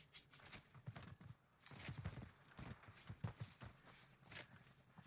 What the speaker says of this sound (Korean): 철판 밟는 소리